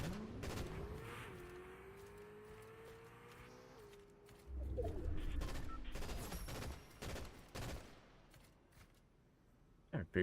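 Gunfire in Fortnite, bursts of rapid shots and single cracks scattered over engine-like game noise, moderately loud, with sharp reports clustering toward the end.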